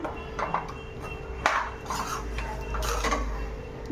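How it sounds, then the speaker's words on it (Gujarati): A spoon stirring a thick cashew and garlic curry in a metal pot, with a few close scrapes and clinks against the sides over a few seconds and a low rumble beneath, no voices. "આ બધું જ એડ થઈ ગયા પછી આપણે બે મિનિટ માટે હલાવી લઈશું"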